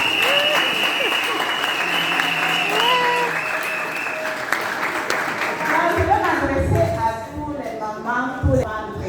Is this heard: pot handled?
no